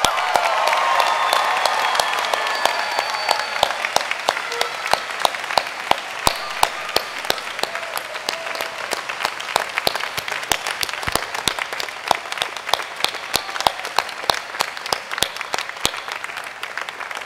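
A large audience applauds graduates at a university public health commencement ceremony, dense sustained clapping with some cheering at first, then thinning into a steady patter of individual claps that carries on for many seconds.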